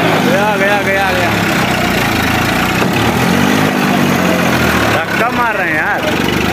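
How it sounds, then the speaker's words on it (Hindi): A Massey Ferguson tractor stuck in the ground roars and revs continuously as it strains to pull free, loud and close, with pitch rising and falling while people shout over it. "गए हैं और ट्रैक्टर निकालने की कोशिश कर रहे हैं"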